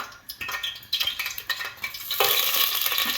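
Ginger garlic paste being stirred in hot oil with whole garam masala in a pot for a meat roast with mung dal, a steady close scraping and clattering of a spoon over a rising sizzle that grows louder and continuous.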